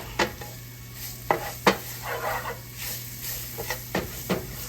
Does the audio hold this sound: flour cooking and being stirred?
yes